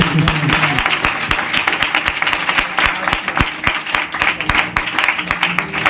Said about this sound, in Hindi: जोर से ताली मारो